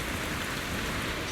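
In the video game Zenless Zone Zero, rain falls steadily as a dense, even hiss of drops hitting surfaces, constant and moderately quiet with no other sounds.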